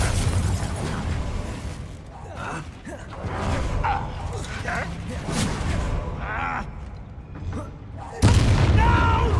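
Confringo blasting curse in Hogwarts Legacy, booming magical blasts and impacts erupting amid combat, with a louder burst near the end, heard under frequent talking.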